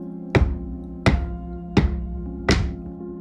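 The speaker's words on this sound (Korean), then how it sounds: "막 쿵쿵쿵 누가 문을 엄청 세게 두드리는 거야" Heavy, loud knocks on a door, four single resonant thuds evenly spaced about three-quarters of a second apart, each ringing briefly, with no voices.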